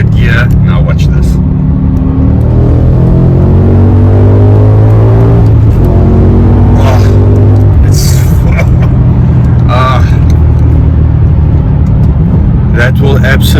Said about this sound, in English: I'm going to show you quickly why I love the BMW V10.